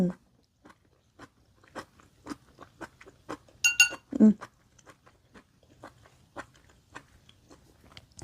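Crunchy mushrooms from a chicken tom yum, eaten in big uncut pieces, chewed with soft crisp bites close up. One louder crunch comes about halfway through, and faint mouth sounds run throughout.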